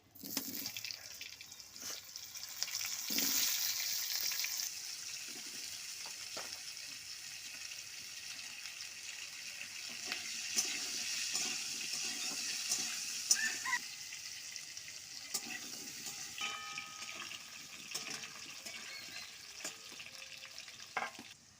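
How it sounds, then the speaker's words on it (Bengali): Potatoes frying in hot oil for a Bengali potol chingri dish, a steady broadband sizzle with occasional clinks and scraping, moderately loud and continuous throughout, no talking. "তেলের মধ্যে দিয়ে দিচ্ছি আমি আলু।"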